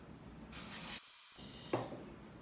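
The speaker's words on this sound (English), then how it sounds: "what I'm gonna do is just put a little dry shampoo in" Dry shampoo sprays into hair in two short hissing bursts with a brief pause between them, quiet and close, followed by a faint knock.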